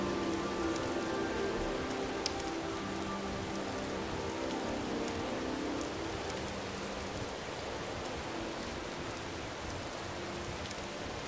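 Rain falling in the video game Morrowind, a continuous hiss of drops on surfaces at even loudness throughout, with a faint tonal hum in the background during the first half and no voices.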